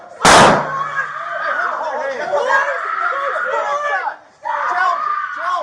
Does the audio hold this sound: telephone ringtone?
no